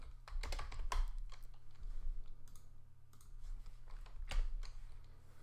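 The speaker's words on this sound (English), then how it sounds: "So I'll type in my function." Keys clatter on a computer keyboard as a function name is entered in code, quick irregular bursts of close, quiet clicks with short pauses between words over a low background hum.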